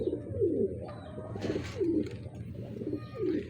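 Pigeons coo in a racing-pigeon breeder's loft, several soft throaty phrases repeating every second or so at close range, with a brief rustle partway through.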